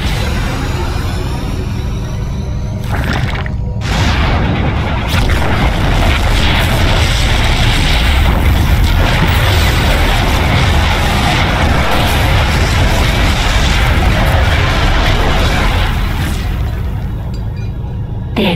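Continuous loud rumbling blasts and booming explosions from StarCraft II: Heart of the Swarm, dense and unbroken, with brief dips before the roar resumes.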